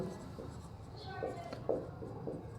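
Faint pen-on-paper scratching as notes are written by hand, a few short strokes under quiet background noise.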